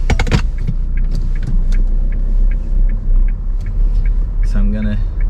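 A car pulls away from traffic lights and cruises slowly, a loud, steady low engine and road rumble with a brief clatter at the start and a short tonal whine near the end.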